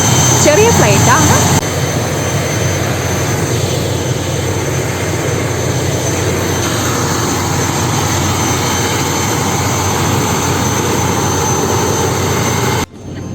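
A small domestic passenger plane's engines drone loudly and steadily near an airport on the way to Malé, a constant close roar that eases slightly after the opening seconds and dips briefly near the end.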